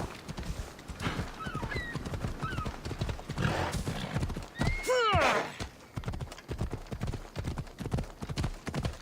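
A horse in Assassin's Creed Odyssey gallops with rapid rhythmic clip-clopping hooves throughout, while loud whinnies and neighs rise over the hoofbeats near the middle.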